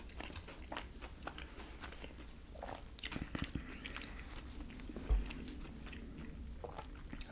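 Crispy buns of a Hawaiian chicken sandwich being bitten and chewed close up, with several sharp crunches followed by softer chewing and one louder thud, no talking.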